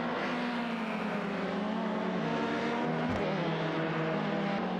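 Race cars roar in a simulated AI racing game, among them a 1998 Ford Mondeo and a Peugeot, with steady layered engine drone and revving that holds loud and continuous, and one car whooshing past near the end.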